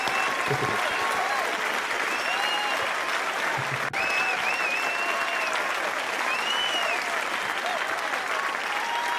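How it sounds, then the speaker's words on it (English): Sustained applause from an online indie game pitch contest audience thanking the judges, steady and dense throughout with a faint voice briefly audible beneath. "Let's give 1 round of applause for all of the judges"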